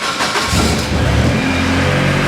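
A turbocharged K24 engine swapped into a Mazda RX8 track car cranks and catches, then settles into a loud, close, steady idle with a deep rumble.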